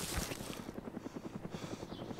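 A helicopter's rotor chops in a steady rapid pulse over a low engine drone, fairly close and continuous, with no voices, in the video game DayZ.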